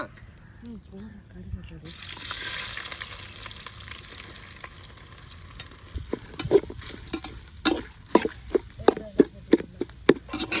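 Onion frying in a pan in a village kitchen, first quiet with people talking, then a bright sizzle that grows as the pieces hit the oil, followed by repeated stirring scrapes and clinks, close by.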